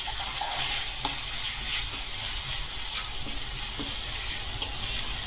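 Tomato paste fries with spices in a pan for kantola curry, making a continuous close bright sizzle with faint stirring taps throughout.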